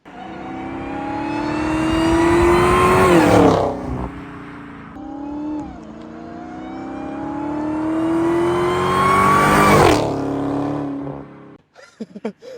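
A Dodge Challenger Hellcat V8 revs hard twice, each pull climbing steadily in pitch for several seconds before the throttle snaps shut. A short rumbling lull separates the two, and faint crackles follow at the end.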